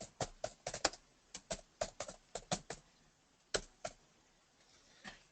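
Computer keyboard keys clack in quick, uneven bursts, close and clear, with short pauses between runs of strokes.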